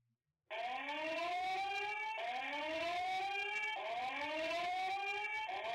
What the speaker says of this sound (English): Device will emit a loud siren sound which may frighten people